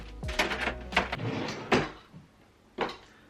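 A household drawer being pulled open during decluttering, a cluster of close wooden knocks and sliding rattles followed by two softer separate thumps, with no talking.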